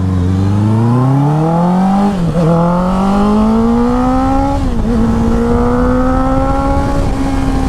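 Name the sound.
Honda CBR 650R motorcycle engine revving while accelerating in third gear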